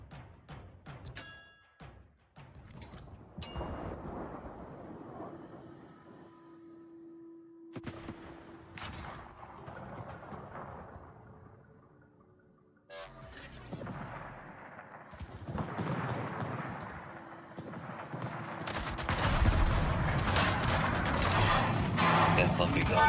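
Warship broadside gunfire in the naval battle game World of Warships: repeated booming cannon salvos and explosions at varying distances, building to a loud dense barrage toward the end, with some talk mixed in.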